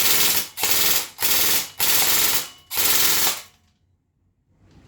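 A Lancer Tactical LT-12B-G2 airsoft rifle fires full auto: bursts of rapid, dense mechanical rattling in five long strings with brief gaps, loud and close, then stop abruptly.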